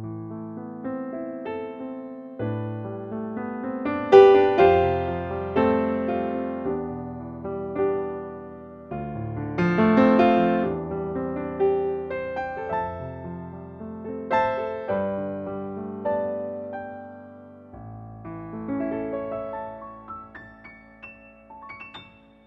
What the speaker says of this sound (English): there is also a more classical orientated sound, which is the sound of the Bösendorfer Imperial